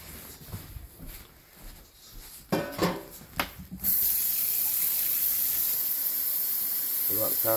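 Tap water runs steadily into a bowl to fill drinking water for dogs, a continuous hiss that starts partway through after some brief clatter and handling noises.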